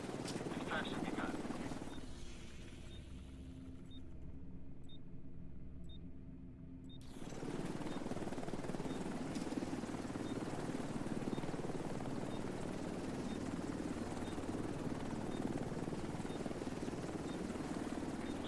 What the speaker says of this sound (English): Chopper will leave in 30 seconds.